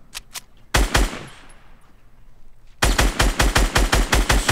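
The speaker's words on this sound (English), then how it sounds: "She's shooting a guy." In Fortnite, loud rapid gunfire comes in bursts: two quick shots, a dense volley, a fading lull, then a long run of evenly spaced heavy shots.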